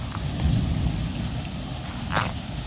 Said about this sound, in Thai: ฝนมาแล้วฝนมาแล้ว